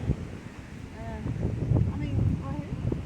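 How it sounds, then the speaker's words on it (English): Wind buffets the microphone at an outdoor sunset viewpoint near Front Royal, Virginia, a steady rumbling gust under close talking voices. "It's quite windy."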